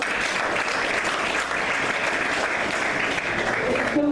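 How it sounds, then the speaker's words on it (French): A crowd applauds steadily at a civil wedding ceremony, with dense, even clapping at a constant moderate loudness from start to end. "Applaudissements."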